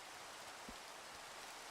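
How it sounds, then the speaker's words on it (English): Steady broadband rain hiss fills a video game level, an even wash of falling drops with no talk, faint and continuous throughout. "I don't think it's technically supposed to be raining here."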